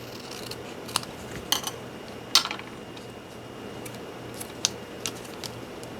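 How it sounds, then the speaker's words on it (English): Scissors cutting the edge off a layered paper embellishment, heard as a few sparse, close snips with short quiet gaps between them and no talking. "And cut the edge off of this one."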